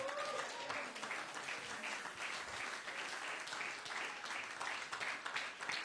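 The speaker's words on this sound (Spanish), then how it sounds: "Y vamos a darle un aplauso al que vive y reina" A church congregation gives a round of applause during a sermon, steady clapping heard faint and somewhat distant, holding evenly without talk over it.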